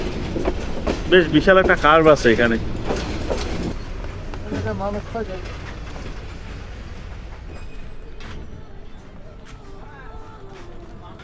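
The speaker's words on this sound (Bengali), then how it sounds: "ট্রেন স্লো হয়ে আস্তে আস্তে ব্রাহ্মণবাড়িয়া রেলওয়ে স্টেশনের দিকে যাচ্ছে" The Mahanagar Express slows toward Brahmanbaria railway station in Bangladesh with a loud rolling rumble under a voice at first, then eases into a steadier, softer clatter as the train runs on.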